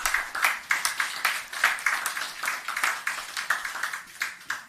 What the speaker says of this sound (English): can we just give him another round of applause?